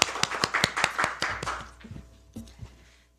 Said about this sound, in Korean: 여러분 힘찬 박수로 맞아주십시오.